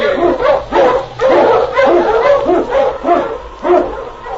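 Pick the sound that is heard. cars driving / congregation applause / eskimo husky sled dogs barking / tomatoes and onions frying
eskimo husky sled dogs barking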